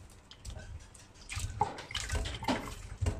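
Raw shrimp are rinsed in plain water, making irregular sloshing and splashing sounds that grow busier and louder partway through, close by and with no speech.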